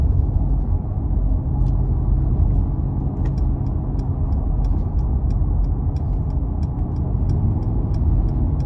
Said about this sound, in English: I'm gonna put it into the sport mode, and I'm really gonna see how this thing drives